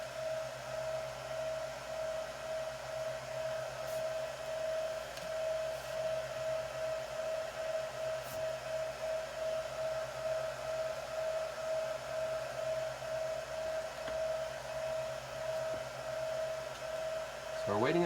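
A Supermicro SYS-E200-8D server cooled by three 40mm fans runs at idle with a steady, quiet whir and a constant tonal hum, unchanging throughout, with faint clicks and no speech.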